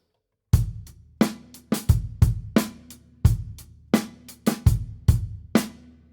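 A sharp drum beat with repeated crisp hits in an uneven groove, each strike ringing briefly, played alone with no talking.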